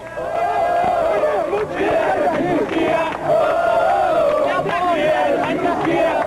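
Organized football supporters in a stadium jeer and chant at a small group of rival fans, a loud, continuous roar of massed voices with rhythmic surges.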